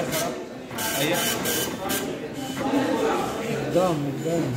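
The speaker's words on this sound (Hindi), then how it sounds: "तो टिकट भी प्रिंट हो रहा है" A ticket printer at a railway booking counter runs off a tatkal train ticket from Secunderabad to Howrah, whirring and clicking in bursts under a man's speech.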